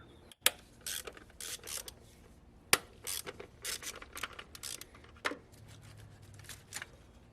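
A ratchet works a 10mm fastener holding a coil pack on a Nissan 350Z VQ35DE engine, giving sparse close clicks and metallic ticks with short pauses between bursts.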